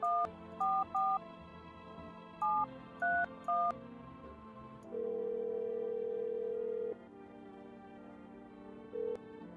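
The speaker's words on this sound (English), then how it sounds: "Okay, first let's call the neighbor." A run of short dialing beeps in a video game, then a long steady tone and a final brief beep, like an electronic phone call being placed. No speech.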